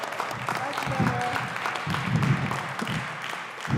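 An audience at a Sunday church service claps in a loose, scattered patter that swells and fades, with voices talking over it.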